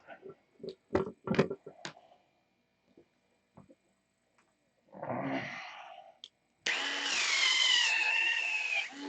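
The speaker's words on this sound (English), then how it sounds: "We're gonna sand that off." A power sander grinding off a worn surface starts with scattered clicks and handling knocks, then comes a short burst of abrasive whirring. A steady, louder high-pitched whine runs to the end, with no talk over it.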